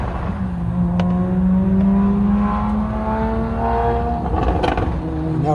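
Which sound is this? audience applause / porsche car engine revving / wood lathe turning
porsche car engine revving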